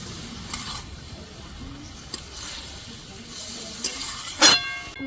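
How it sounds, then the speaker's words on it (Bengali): Cabbage with chopped tomato stirred in a pan, giving a soft background sizzle with a few scraping clinks of the utensil, the sharpest near the end. "বাঁধাকপির মধ্যে টমেটো কুচি আবারও খুব ভালো করে আমি নাড়া দিয়ে নিব"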